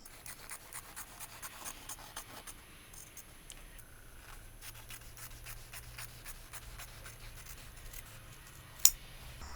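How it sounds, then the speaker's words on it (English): Scissors cut along the side seam of a men's cotton shirt, quiet rhythmic snips and fabric rubbing repeated steadily, close by, with one sharp click near the end. "I'm just going to cut along the side seam here."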